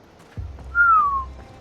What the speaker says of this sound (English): I can whistle better